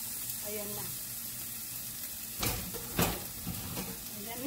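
Ginger and garlic sizzle together in a pan for chicken curry, a steady close frying hiss broken by a couple of sharper bursts of spatter and stirring.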